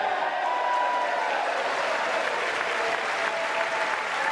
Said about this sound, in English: Everyone gives him a big round of applause.